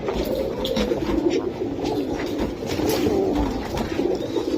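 Red dom Indian pigeons coo steadily close by, a continuous low burbling murmur from several birds with no pauses.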